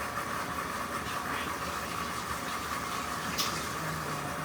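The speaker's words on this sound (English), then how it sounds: "I'm gonna wash my hands." A tap runs steadily while hands are washed, a continuous close rush of water with no talking.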